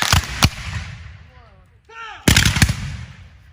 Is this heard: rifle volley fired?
yes